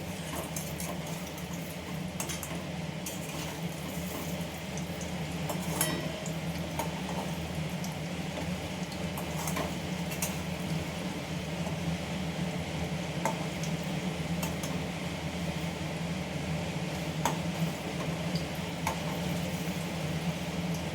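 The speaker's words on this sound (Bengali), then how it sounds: "ছানার কোপ্তাগুলো আমি এবার আস্তে আস্তে ভেজে নেব।" Chhena koftas fry slowly in oil over a gas flame, giving a soft, steady sizzle and bubbling at low volume for the whole stretch, with occasional faint clinks.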